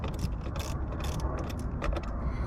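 Ratchet wrench loosening the positive battery terminal nut on a Porsche Cayenne, a quick run of close clicking pawl strokes over steady low background hum, with no talking.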